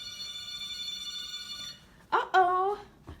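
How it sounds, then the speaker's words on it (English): A hotel room telephone in a Hollywood hotel rings with an electronic trill that stops after under two seconds, then a person speaks nearby. "the phone's ringing"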